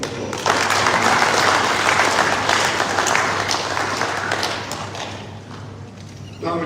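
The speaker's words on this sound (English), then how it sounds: "I think that our Father deserves another round of applause." An audience at a Delta State government house reception gives a pastor a round of applause, a loud sustained crowd clapping that gradually thins and softens over several seconds before a brief resurgence at the very end.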